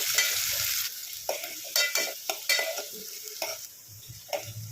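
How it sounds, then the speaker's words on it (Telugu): Chopped onions and green chillies fry in a pan for village-style country chicken curry, a steady sizzle broken by repeated bursts of stirring and spoon scrapes, close and without talk. "ఇందులో కట్ చేసిన ఉల్లిపాయ ముక్కలు పచ్చిమిర్చి ముక్కలు వేసుకోండి ఉల్లిపాయలు అయితే మంచి కలర్ వచ్చే వరకు అయితే వేయించుకున్నాము"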